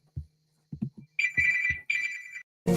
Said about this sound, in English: my phone is ringing anyway